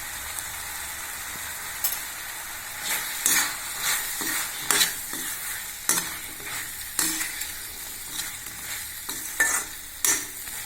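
Curry leaves go into a frying pumpkin and chickpea masala over a soft steady sizzle, with repeated scraping stirs of the spoon against the pan at uneven intervals and no voice.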